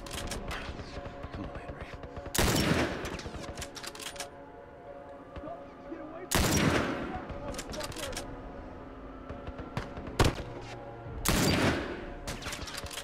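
Gunfire in The Last of Us game: several loud bursts of rapid shots separated by quieter stretches, with a sharp single report near the end and talking running underneath.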